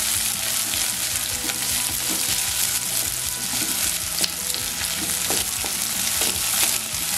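Garlic, two green chillies and small shallots sauté in hot oil in a pan, giving a steady, dense sizzle close by with occasional scraping taps from stirring throughout.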